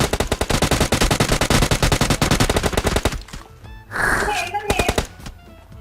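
Rapid machine-gun fire in a video game rattles in a loud, steady stream for three seconds, then pauses before a few scattered shots, with voices talking in between.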